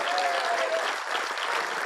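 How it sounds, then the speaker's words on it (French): Steady applause from an event audience at a pétanque trophy final in Satolas-et-Bonce, honoring a local star player, dense and sustained throughout with a faint tonal voice trace early on. "un tonnerre d'applaudissements pour notre international champion"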